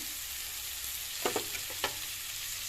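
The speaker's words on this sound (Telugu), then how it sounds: "ఇప్పుడు మన మెయిన్ ఇంగ్రీడియంట్ మన అటుకులు వేసేద్దాం" Soaked poha flakes dropped into a hot frying pan for a chickpea poha, giving a steady low sizzle with a few brief scraping stir strokes near the middle, close and fairly quiet, with no talking.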